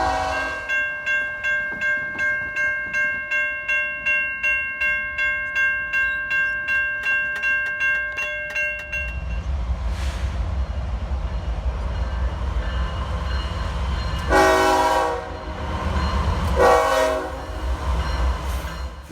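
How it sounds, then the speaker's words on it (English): A freight train rolls past on railway tracks with rhythmic wheel clacks, then rumbles louder and closer as the cars go by. Its horn sounds in two loud blasts near the end. "You hear the sound of the train on the tracks?"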